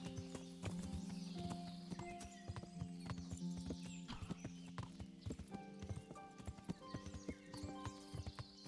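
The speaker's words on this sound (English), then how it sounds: "Don't think a horse would enjoy galloping across this at all in real life." A horse's hooves in Kingdom Come: Deliverance beat out a steady, quick clip-clop rhythm, fairly quiet and close, with occasional snorting and no talking.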